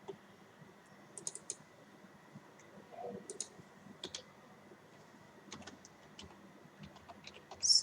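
A computer keyboard is typed on in sparse, light clicks over a quiet steady hum, with small irregular bursts of keystrokes spread throughout.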